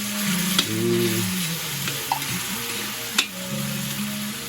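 Sardines frying in a pan with garlic and onion, a steady close sizzle with soft stirring clinks and occasional small pops, no talk.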